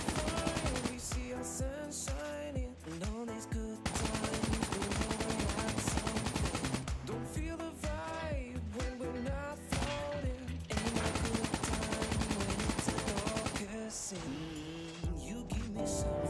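Rapid automatic fire from a KN-44 assault rifle in the shooter game Call of Duty Mobile rattles on almost continuously, loud and dense, with short breaks between sustained bursts.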